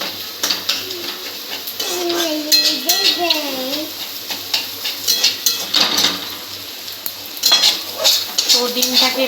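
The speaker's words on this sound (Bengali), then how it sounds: "ডিমটাকে এবার ভালো করে মিক্স করে নাড়িয়ে চাড়িয়ে নেব।" Beaten egg sizzles in a hot pan for egg chow mein while a utensil stirs and scrapes with quick clinks, mixed with faint voices in the background.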